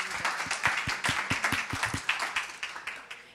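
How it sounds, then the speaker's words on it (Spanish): A small audience at an academic congress claps briefly, with individual hand claps clearly separated in a quick, fairly regular rhythm, close and moderately loud. "Es un aplauso, por favor"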